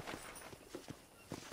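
Horse hooves clop at a steady walking rhythm while riding on a ranch in the video game Red Dead Redemption, the footfalls fairly faint and soft against a low ambient background.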